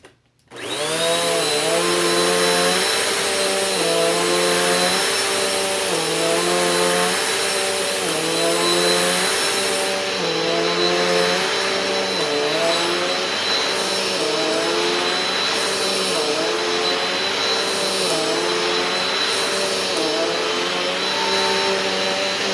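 A Bissell Powerforce Compact vacuum cleaner runs continuously on carpet sprinkled with baking soda, a loud, close, steady motor whine with pitch rising and falling rhythmically as it is pushed back and forth in repeated passes.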